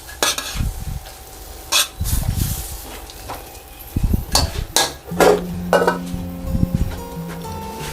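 Shrimp being flipped and stir-fried with glass noodles in a pan: scraping and stirring strokes, clinks of a utensil on metal and a steady sizzle, close and busy with no talk.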